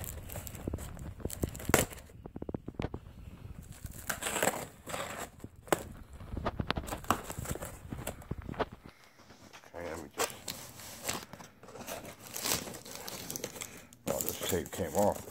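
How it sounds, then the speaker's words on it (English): Packing tape is peeled and torn off a sealed shipping package during an unboxing, with repeated close crinkling and ripping bursts under ongoing talk. "Tape came off this whole piece."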